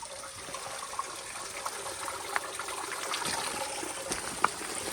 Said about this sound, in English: Massive amount of water coming down.